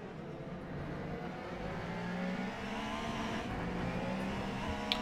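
A race car in Le Mans Ultimate, a racing video game, drives over kerbs with a stiff suspension. Its engine gives a steady, quiet drone and hum that holds alone throughout, with a small bump near the end.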